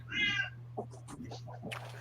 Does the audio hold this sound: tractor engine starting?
no